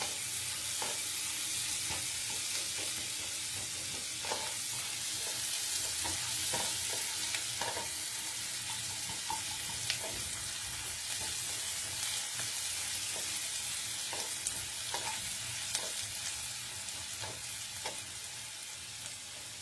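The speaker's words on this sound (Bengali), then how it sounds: "পেঁয়াজটাকে একটু লাল করে ভেজে নেব।" Onions fry in a pan for carrot barfi, giving a constant close sizzle and hiss broken by repeated light scrapes and clicks of stirring, with no talking.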